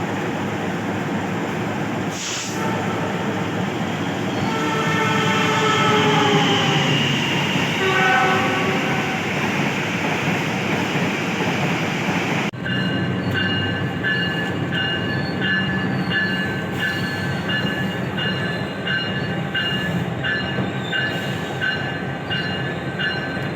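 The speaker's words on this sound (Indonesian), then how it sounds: "Saat ini KA Penataran berhenti bersilang dengan kereta api Mutiara Selatan di stasiun Sepanjang." Penataran local train halted at Sepanjang station while the Mutiara Selatan express passes alongside: a loud, steady rumble of rolling wagons and wheels, a brief sharp horn blast early on, then a shift to a harsher rattling roar with squealing tones.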